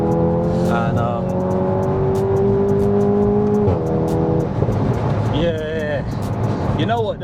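A VW Golf 7.5 GTI TCR with a stage 2 tune accelerates hard, a smooth rising engine drone heard from inside the car, followed by gear shifts and a whistling turbo spool, with someone talking over it.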